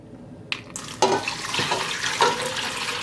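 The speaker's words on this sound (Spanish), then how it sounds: "Y les voy a poner agua caliente para que se suavicen más rápido." Hot water pours over dried guajillo chiles in a kitchen, a close splashing, gurgling flow with a couple of brief clinks, starting after a short quiet moment.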